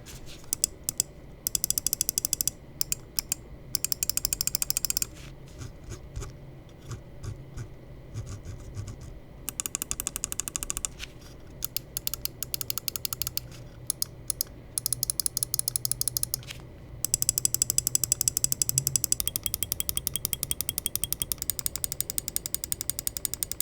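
Rapid, crisp clicking from WLMOUSE Beast X and Beast X Mini gaming mice fitted with Huano Blue Shell pink-dot switches, heard close and alone in bursts of fast repeated presses with short pauses between them.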